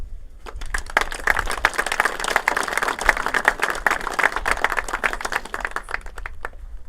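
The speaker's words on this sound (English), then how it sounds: "if you guys would all give Aunt Virginia a round of applause" An audience at a statue dedication at the CCC Museum in Salina, Utah claps together in a steady burst of applause lasting several seconds before tapering off.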